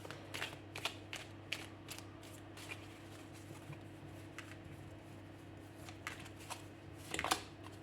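Tarot cards being handled and one laid over another, a series of soft, close flicks and taps at an uneven pace over a low steady hum, with a brief cluster of rustling near the end.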